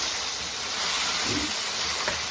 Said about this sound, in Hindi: We will keep stirring the chicken until it's fully released its water.